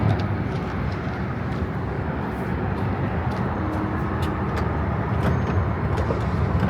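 Steady traffic noise on a downtown Houston street along San Jacinto Street, with cars rumbling past continuously at moderate distance, no clear gaps between vehicles.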